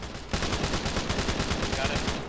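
Rapid automatic gunfire in the ArmA 3 video game: a fast, steady string of loud shots that rattles on for about two seconds after a short quiet start.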